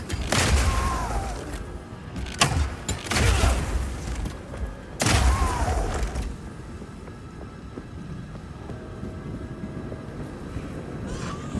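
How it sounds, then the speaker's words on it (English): Grenades lying on the ground detonate in Path of Exile 2, a fantasy action game, in the Mercenary class's crossbow gameplay: three heavy booming blasts roughly two and a half seconds apart, loud and close, followed by a low rumbling tail. "you can explode any grenades that happen to be on the ground"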